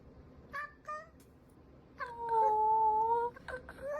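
A cat meows several times, first two short mews, then a long drawn-out wavering meow and a final brief call, close and fairly clear over a low background hiss with no talk.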